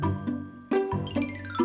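A toy train's bell rings in a few bright, tinkling strokes, each with a ringing tail that overlaps the next, close and clear with no talk.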